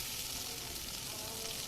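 Egg with onion and green chili frying in a pan gives off a steady, soft sizzle that continues unbroken throughout, with no talking.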